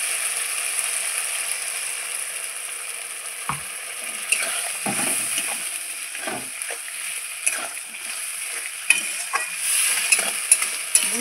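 Mutton masala for kosha mangsho is stirred and fried in oil after a splash of water is added, giving a steady bright sizzle with scattered knocks and scrapes of the spoon against the pot throughout.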